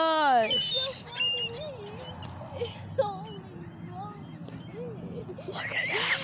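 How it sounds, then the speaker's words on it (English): Many birds call at once outdoors, a busy tangle of chirps, whistles and rising trills up close, with people talking excitedly over the flock. "Birds, birds, and more birds."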